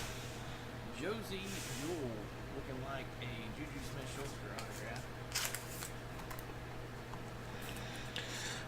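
Football trading cards being shuffled and flicked through by hand in short papery swishes and slides, fairly quiet, with a faint steady hum underneath.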